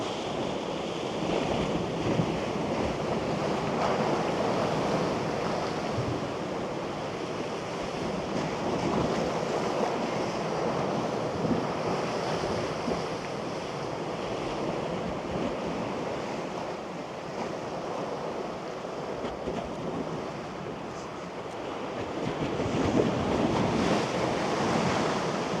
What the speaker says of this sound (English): All the bigger waves are a bit further down